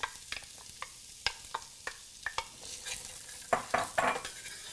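Onions going into a pot after spices have started popping, with sharp scattered clacks of a spoon against the pot over a light sizzle that swells near the end, close and fairly quiet.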